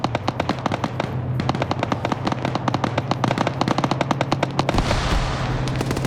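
Video game gunfire with a grenade explosion: rapid, loud bursts of automatic fire crackle in dense rhythmic volleys, then a heavier blast and rumble near the end.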